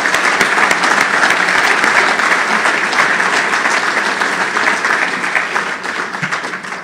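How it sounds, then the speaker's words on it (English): Loud, sustained applause from a banquet audience at a Labour Day dinner, a thick roar of many hands clapping that holds steady and then slowly tapers toward the end. "Please, let's give them another round of applause."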